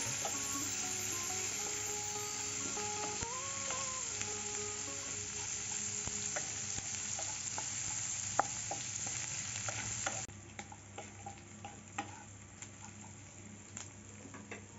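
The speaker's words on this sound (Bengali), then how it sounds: "ফোড়নটা হয়ে গেছে, এখন পেঁয়াজ কুচি দিয়ে দেবো। পেঁয়াজটাকে এখন ভেজে নেব একটু।" Chopped onions fry in a pan for a fish curry, a dense continuous sizzle with frequent spatula stirs and scrapes; the hiss drops noticeably quieter partway through while stirring clicks continue.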